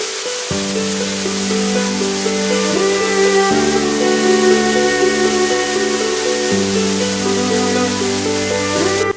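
Bamni Falls, a monsoon waterfall in Purulia, roars as a steady, loud broadband rush of falling water, with a sustained musical tone layered over it throughout.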